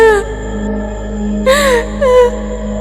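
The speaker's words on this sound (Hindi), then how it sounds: "ठंडी हवा में वह रोने की आवाज और भी डरावनी लगने लगती है" A girl's eerie wailing cry at night in a desolate place, several drawn-out moaning sobs rising over a steady low hum and background hiss, moderately close.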